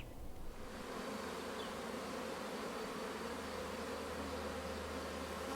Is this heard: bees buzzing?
yes